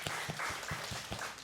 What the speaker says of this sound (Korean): 우리 하나님께 영광의 박수 올려드립니다.